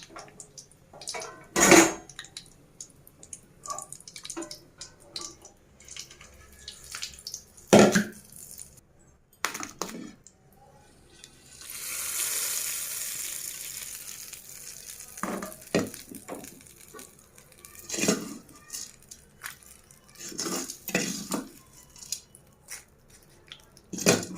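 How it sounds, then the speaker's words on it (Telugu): Loud clanks of metal utensils against a pot, then a short hissing sizzle as hot oil tempering meets dried red chilli tomato chutney, followed by more scattered clatter and stirring. "ఇప్పుడు మనం పచ్చడిలో ఈ పోపును యాడ్ చేసుకుందాం"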